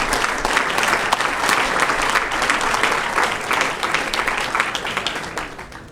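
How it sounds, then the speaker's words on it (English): A crowd gives a standing ovation at a parish council meeting, loud, sustained applause filling the room throughout with no talk over it. "Look at that, another standing ovation for you, young man."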